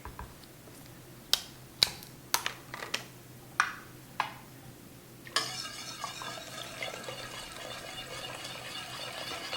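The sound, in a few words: stirring vodka into coffee and sugar solution for Kahlua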